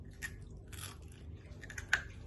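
Crunchy fried scorpion eaten as Bangkok street food, with a few crisp bites and chewing crunches spread across a quiet stretch, close and fairly soft, one sharper crackle near the end.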